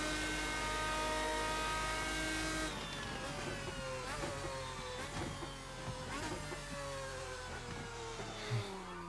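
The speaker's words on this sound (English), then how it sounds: "I love the scream of the car you can hear through the reverb." A GT1 racing car engine in a sim racing video game screams at high pitch, its tone sliding and shifting through gear changes, heavy with echoing reverb and a low hum beneath.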